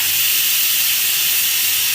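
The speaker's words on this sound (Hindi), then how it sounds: "अब आलू बॉईल हो रहा है कुकर में" Loud, steady steam hiss from a pressure cooker boiling potatoes with tomato and onion, a continuous close-up jet of vapor without a break.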